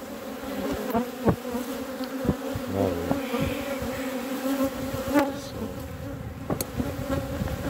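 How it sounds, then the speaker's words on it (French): Honeybees in a hive buzzing defensively, a steady loud drone with sharper high whines rising over it, continuous and close. "Ça c'est quand vous pincez une abeille."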